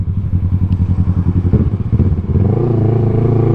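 A Kawasaki Z650 motorcycle engine runs close and loud, opening with a rapid, pulsing twin-cylinder idle and then rising into a steady, sustained rev that holds to the end, with no voices.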